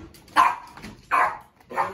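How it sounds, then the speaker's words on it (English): A dog barks indoors three times in quick succession, each bark loud and close with short pauses between them. "And my dog is barking."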